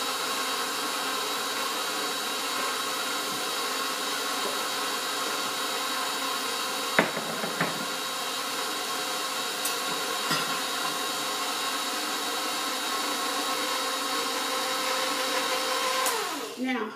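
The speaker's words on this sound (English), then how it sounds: "I'm going to turn the mixer on. It's kind of noisy." A stand mixer beats King Cake dough made with eggs, yolks and flour, a steady, loud motor whir that runs the whole time, with a few knocks and clinks against the bowl and a short catch near the end.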